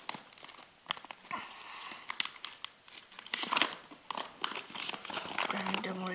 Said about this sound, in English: So I'm going to put on the stickers now. Let's open up the sheet.